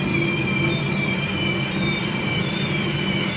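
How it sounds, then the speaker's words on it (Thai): A 19x24-inch mixing tank machine with a fish-tail paddle blade runs with a loud, steady motor hum carrying a thin high whine, continuous and even throughout, with no voices. "เรามาดูการเปิดเครื่องกันนะคะ เปิดเครื่องได้เลยค่ะ"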